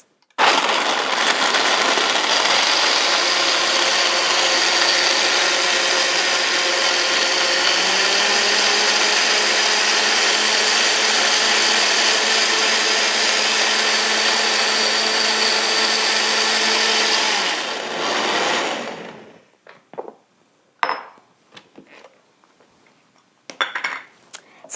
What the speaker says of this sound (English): So now I'll go ahead and blend this.